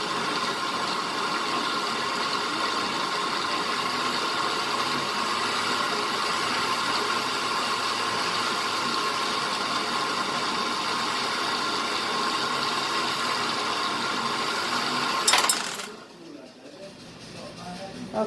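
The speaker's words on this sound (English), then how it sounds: "And then we blend it some more." A blender blending red enchilada sauce, a steady, loud whirring motor running continuously for about fifteen seconds, then cutting off abruptly, leaving near silence.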